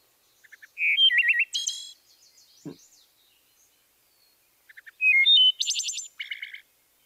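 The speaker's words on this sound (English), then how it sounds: "So I'm going to play a wood thrush song." A recorded wood thrush sings two clear, flutelike phrases separated by a pause, each opening with soft introductory notes and rising into fast, bright trills, alone with no background noise.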